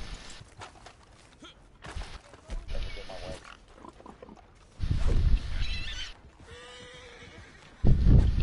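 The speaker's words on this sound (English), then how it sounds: "Look at all these pigs." Pigs in Red Dead Redemption 2 grunt and squeal in irregular bursts, with a louder squeal near the middle and another close, loud grunt at the end, over quiet background sounds.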